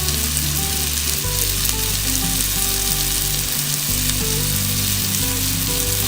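Cream is poured into a hot pan of pasta sauce for seekh kabab pasta, giving a loud, constant, close-up sizzle with a steady low hum beneath it and no voices.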